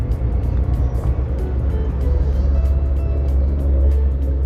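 Morning rush-hour road traffic on the Solo–Jogja road, with cars and other vehicles rumbling past nearby in a steady, continuous low drone.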